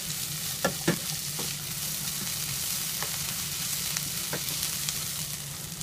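Chopped onions with salt sizzle steadily in a pan as they are sautéed until soft, with a few sharp scraping clicks from stirring breaking through the continuous close frying hiss; no talking.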